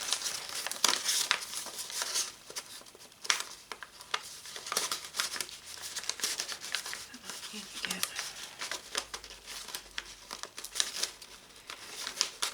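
A paper envelope with a tag inside is pushed into the corner pocket of a handmade journal, giving quiet, irregular crinkles and rustles that come in repeated bursts, with soft talking underneath.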